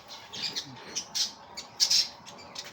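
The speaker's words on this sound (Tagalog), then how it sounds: "Uy, mayroong ibon pala dito." Several short, sharp bird squawks burst out at irregular intervals against a quiet background, moderately near.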